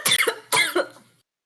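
A person imitates a cough with two short harsh hacking bursts in quick succession, close and fairly loud, then silence.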